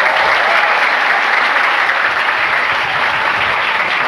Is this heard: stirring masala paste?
no